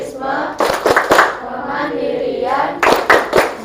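A classroom group claps a rhythmic PPK clap chant, crisp hand claps in quick bursts of three to four, pausing while voices chant between rounds, then clapping again near the end.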